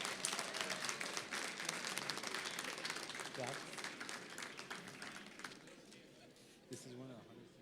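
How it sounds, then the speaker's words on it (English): Applause from the audience at a school board meeting honoring high school division winners, a brisk wash of clapping that thins out over several seconds, with voices and chatter underneath near the end. "If we can please have one loud round of applause for our high school division winners"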